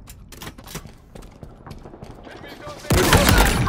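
Gunfire in a Halo Infinite Oddball multiplayer match: scattered single shots and mechanical clicks, then a sudden loud burst of rapid automatic fire near the end, with faint game voice callouts underneath.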